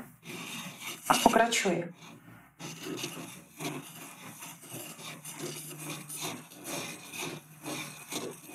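A straight woodcarving chisel is rubbed back and forth a few times on a coarse sharpening stone, giving close, gritty rasping strokes that repeat steadily; someone speaks briefly over the scraping.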